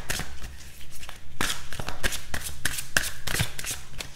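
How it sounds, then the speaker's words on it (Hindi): Tarot cards are shuffled and pulled from the deck, with quick papery riffles and slaps that repeat in short bursts and are heard up close, with no talking. "सो सबसे पहले तो हम आपके बारे में यहाँ पर कार्ड्स पुल आउट करेंगे"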